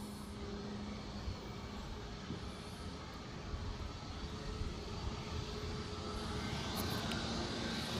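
Shanghai Airlines Boeing 737 MAX 8 airliner, a steady broadband jet engine roar with a faint whine, building slightly louder toward the end, heard at a distance with no talk.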